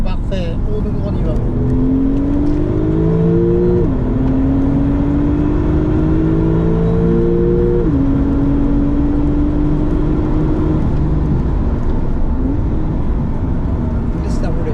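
A sports car, Porsche or KTM X-Bow, accelerates hard on a race track, its engine note climbing through several gears with sharp drops at each shift, loud and steady with wind and road roar, while an instructor talks throughout.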